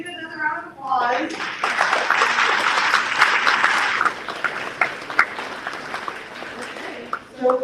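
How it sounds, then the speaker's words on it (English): A livestreamed stage event's audience breaks into applause after a brief voice, the clapping swelling quickly, holding steady and fairly close for several seconds, then thinning out as a voice returns near the end. "Let's give it another round of applause."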